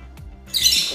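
Caged birds kept at a house let out a short burst of shrill chirping and squawking, loud and close, following a near-quiet moment.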